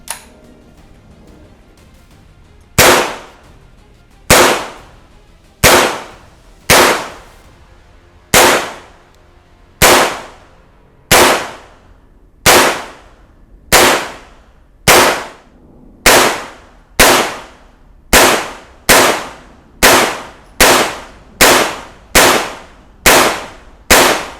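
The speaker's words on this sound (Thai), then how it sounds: "ยิงได้เลยครับ" A Smith & Wesson M&P15-22 rifle fired at targets roughly ten-plus meters away at an outdoor range: about twenty sharp, loud cracks, each with a short ringing decay, spaced a second or more apart at first, then coming faster and more evenly toward the end.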